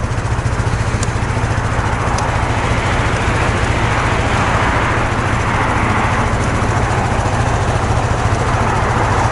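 A clean, low-mileage Vespa scooter with about 5,000 miles runs steadily nearby, its small engine giving an even, throbbing putter that stays loud and constant throughout with no talking.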